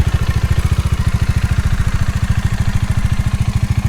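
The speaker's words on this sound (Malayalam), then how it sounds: "ഇത് ടാപ്പറ്റ് ലൂസായിട്ട് വരുന്നൊരു സൗണ്ടാണ്" A Bajaj Dominar 400 motorcycle engine with loose tappet shims idles up close, a loud steady low thrum with a fast, even ticking clatter running through it.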